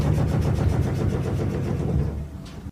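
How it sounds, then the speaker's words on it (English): Loose plumbing pipes rattle in a loud, rapid series of knocks lasting a few seconds, fading slightly before stopping abruptly. "The first sound we're going to talk about today is rattling"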